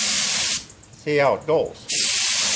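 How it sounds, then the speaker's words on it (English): A small touch-up spray gun hisses in short bursts as it sprays paint onto a 1/4 scale Piper Cub model fuselage, with a voice talking between the sprays. "And this is a little touch-up gun, they call it."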